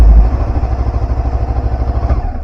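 A Honda CBF 500 motorcycle engine fires up and settles into a steady idle, with a close, loud, rhythmic low thumping pulse after an initial burst at startup.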